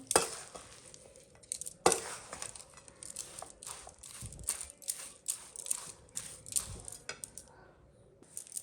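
Gundar pak, a mixture of edible gum, jaggery and spices, is stirred in a pan with scraping, clinking strokes and a faint sizzle, close and fairly quiet, in an uneven steady rhythm with no talking.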